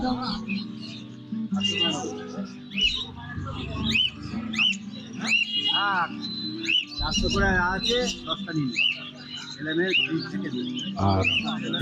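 Many birds chirp and tweet densely over a busy crowd murmur at the Birnagar bird and animal market, with overlapping calls and voices from all sides.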